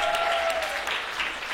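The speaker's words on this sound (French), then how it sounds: "on va vous demander 15 fois plus d'applaudissements encore" An audience claps steadily and densely throughout, with a faint tone fading out early on.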